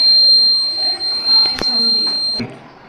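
A high electronic buzzer tone beeps steadily in the foreground, set off by water poured onto a sensor at a school science exhibition, while a person talks and some clicks and knocks sound nearby.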